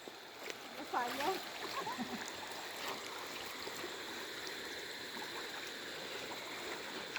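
A river in Culasi, Antique being crossed on foot gives a steady rush and trickle of flowing water with a few splashes early on, heard close and continuous.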